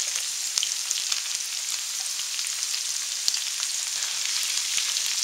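Sliced onions and mushrooms fry together in a hot pan, a steady close sizzle with scattered crackles and pops throughout, no voices.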